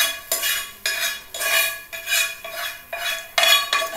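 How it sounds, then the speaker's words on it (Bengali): A utensil stirs papaya pieces in thin buttermilk in a pot, giving repeated clinking scrapes against the metal in a steady rhythm of about seven strokes, close and clear with no talk. "এটাকে আগে নাড়িয়ে নিই।"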